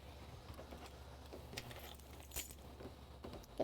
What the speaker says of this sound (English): Get those car keys out of here.